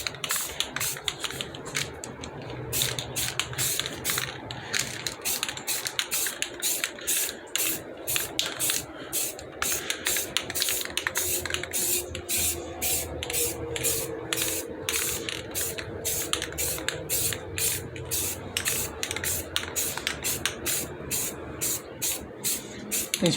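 A spray can hisses in rapid, repeated bursts while painting aluminum car wheel rims, keeping a steady close rhythm throughout with mechanical clicks between sprays.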